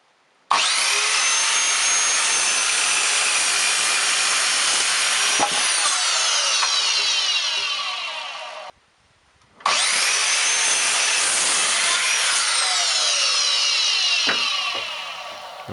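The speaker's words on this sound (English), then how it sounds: "And then some more cutting." Miter saw cutting through wood during a DIY hot tub spa bath build: two loud, sustained cuts of about eight and five seconds each, separated by a brief pause, with the blade whining down at the end of each cut.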